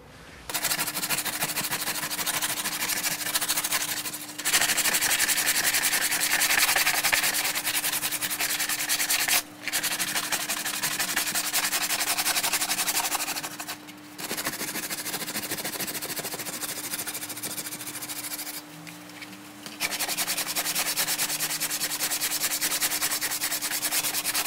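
Rough fiberglass and Bondo being sanded on a waterfall build: long, loud runs of steady abrasive rubbing with a constant motor whine, broken by a few short pauses.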